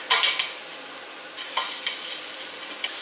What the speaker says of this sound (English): you want to be really firmly stirring over the bottom to prevent it from burning